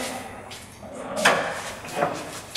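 A flat-bladed screwdriver gently prying the covers off a VESDA smoke detector manifold; a couple of close, brief scraping clicks and pops over a quiet background.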